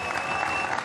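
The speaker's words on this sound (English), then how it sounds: "in second place, an even bigger round of applause, please, for Jody Butel." Audience at a STIHL Timbersports Australian Trophy 2021 event applauds steadily, a dense even wash of clapping from a crowd, brief and sustained without talk.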